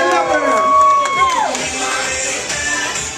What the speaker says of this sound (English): let's hear a round of applause. Come on, give it up for her.